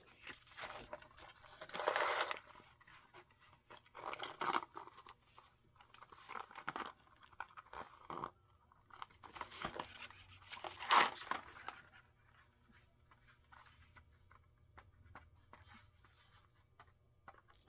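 A bone folder creases folded paper card for a handmade note card, giving several soft crinkling, rubbing bursts in the first half, then fading to a quiet hum.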